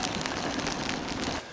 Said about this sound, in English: Rain's actually eased off now